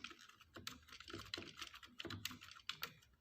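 Keys clack on a computer keyboard in quick, irregular bursts of close, light taps, heard alone in a quiet room.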